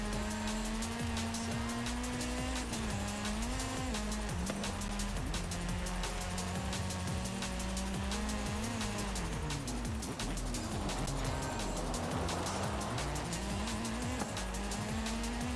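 A car in the racing game Forza Horizon 5, heard as a steady loud engine drone whose pitch rises and falls as it accelerates and brakes hard, with tire noise near the end and no talk.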